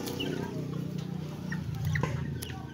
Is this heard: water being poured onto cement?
no